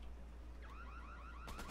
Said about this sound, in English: I opened the door and the alarm went off